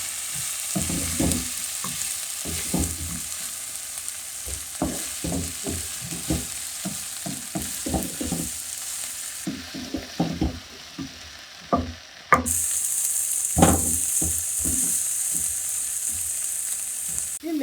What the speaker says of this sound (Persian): سبزی باید خیلی با زیر کم خوب تفت داده بشه